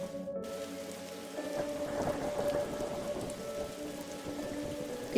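Steady rain falls on a rooftop in a detective video game, a constant hissing patter with faint low rumbles beneath, continuous and moderately loud with no voices.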